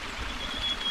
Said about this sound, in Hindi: ये जंगल में देखिए बहुत शानदार बिल्कुल मीठे पानी का झरना है